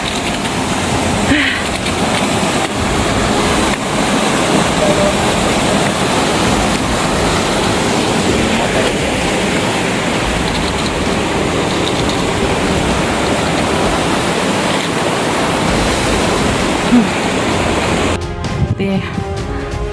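Mountain river rushing down the slopes of Mount Papandayan in Garut, a loud, steady roar of turbulent water close by that runs unbroken, with faint voices briefly at the end.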